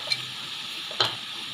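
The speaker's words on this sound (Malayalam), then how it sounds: "പച്ചമണം മാറുന്നത് വരെ നന്നായി വഴറ്റുക." Ground, previously fried ginger and spice powders (turmeric, chilli, coriander) sautéing in a pan for Kerala inji curry: a soft steady sizzle with a couple of brief scraping stirs.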